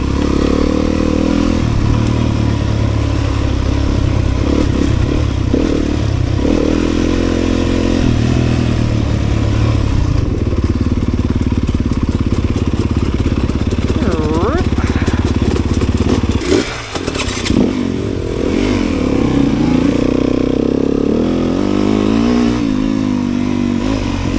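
A 4-stroke dirt bike rides a trail, its engine loud and close throughout, revving and shifting with rough clatter and a brief dip midway.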